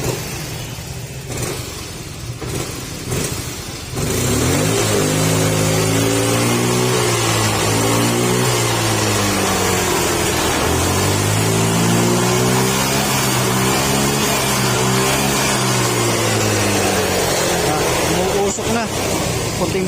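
A Yamaha M3 motorcycle that burns oil and smokes idles with a knocking fault, its loud, steady engine note wavering under someone talking close by.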